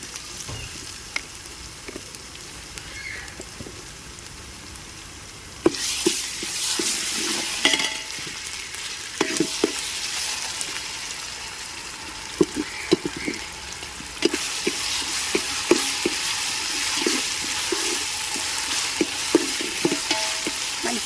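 Ginger-garlic paste sizzles and fries in hot oil for a country chicken curry, with a steady crackling hiss, occasional spoon stirs and clinks against the pot, and louder bursts of sizzling partway through, without speech.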